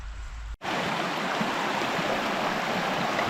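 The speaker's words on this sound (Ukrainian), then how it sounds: "Знову на нашому путі річка. О, струмочок" Steady rushing of a mountain stream in the Beskydy flowing over rocks, close and constant, with a broad hiss that starts abruptly after a brief moment and continues unbroken.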